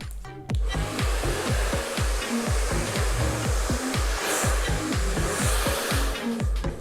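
A hair dryer blows steadily and loudly close by while a thick section of hair is dried and styled into a blowout, its motor pulsing rhythmically as the dryer is moved back and forth, with no talking.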